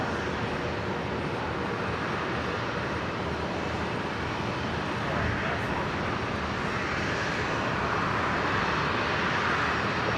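A Qantas Link Dash 8 turboprop takes off from runway 01 right at Brisbane airport, its engines a steady, loud, broadband roar that holds for the whole stretch and swells slightly midway.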